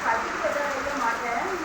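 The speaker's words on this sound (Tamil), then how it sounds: "இங்கேப்பா இந்த மழை தான் நமக்கு சரியான மழை." Heavy rain pours down in Tirunelveli in a steady, dense patter close by, with faint voices underneath.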